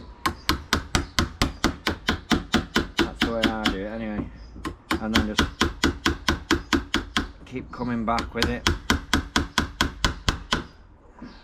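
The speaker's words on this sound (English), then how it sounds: "It's only a little diddy hammer, this is, so as I don't go crazy with it." Rapid, regular light taps from a small hammer on a sticking wooden door, dozens in quick succession, with a person talking over them partway through.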